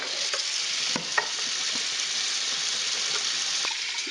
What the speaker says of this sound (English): I'm gonna rinse this out with some hot water.